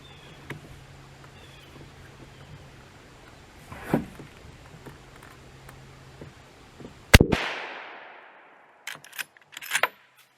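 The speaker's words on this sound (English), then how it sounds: "Let's go ahead and put some rounds down range and see where we're at" A Winchester '94 rifle fires at an outdoor range: one loud, sharp report with a long fading echo, preceded by a fainter thump and followed by a few small clicks and clatters of handling.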